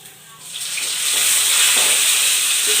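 Curry leaves hit hot oil in a pan while cooking a cluster bean stir-fry, setting off a rising hiss of sizzling that swells and holds loud and bright.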